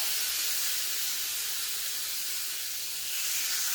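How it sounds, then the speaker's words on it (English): Steaks sear on a hot skillet with a steady, loud, close hiss of sizzling that holds without a break for several seconds, no voices over it. "So I'm just gonna put these steaks right on the grill."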